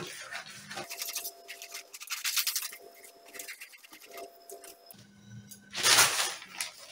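Scissors cutting fabric for a one-sided collar, close crisp snipping and scratchy slicing strokes in short clustered bursts with brief pauses between them.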